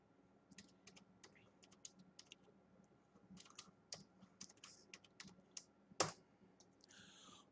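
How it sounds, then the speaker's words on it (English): Quiet, rapid, uneven keystrokes on a computer keyboard as a terminal command is typed, a short run of clicks with one louder tap near the end. "you have to type nvidia-smi"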